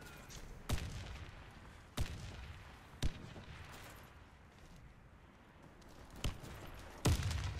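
Explosions go off in Warface as a grenade detonates, several sharp booms spaced a few seconds apart, moderately loud over a low rumbling background with no talking.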